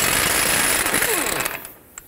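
An impact or power tool with a 32mm socket rattles loudly, loosening the front CV axle nut on a 2007-2010 Chrysler Sebring, a dense continuous hammering that trails off and stops near the end.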